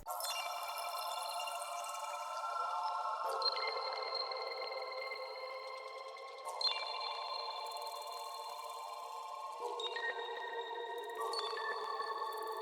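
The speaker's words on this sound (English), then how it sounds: "This one's called the Aliens pad. It sounds like this." A glassy, bell-toned Omnisphere-style synth pad rings out in slow drill-style chord changes, each new chord striking brightly and then decaying into a soft, airy sustain.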